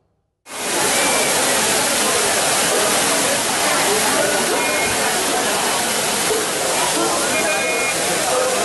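Heavy water crashing down the Courtallam waterfalls during a high-flow season, a loud, steady broadband roar that starts abruptly and continues unbroken, close to the falls with no voices.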